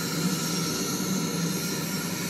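An airplane flies overhead above the Palm, giving a steady, dense broadband roar that holds at even loudness throughout with no talk.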